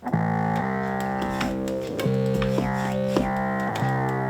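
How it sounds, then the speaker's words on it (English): Zoom B9.1ut bass effects unit set to echo: sustained bass notes shift pitch a few times, with repeating echoed tails and gliding tones layered behind them, playing alone. "Echo"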